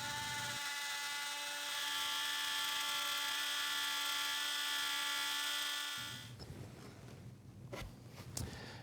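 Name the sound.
router with pattern bit trimming template opening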